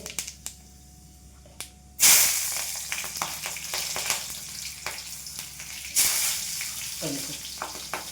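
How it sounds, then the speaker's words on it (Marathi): Mustard seeds and green chillies hit hot oil in a kadhai with a sudden loud sizzle that settles into steady frying hiss, then flares again a few seconds later, close by and under occasional light clatter. "कढईत तेल टाकलं, मोहरी टाकते, मग मिरच्या टाकते"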